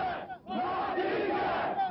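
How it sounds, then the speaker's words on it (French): A crowd gathered outside a small house on the outskirts of Grozny in 1995, a dense, steady murmur of many voices close by with raised shouts rising out of it, tense and continuous throughout. "devant une petite maison de la banlieue de Grozny, la foule s'était déjà rassemblée"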